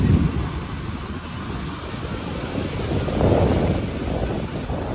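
Steady rushing ocean surf on the beach at Puri, with broad wave wash swelling and receding under gusty wind buffeting the microphone, no voices present.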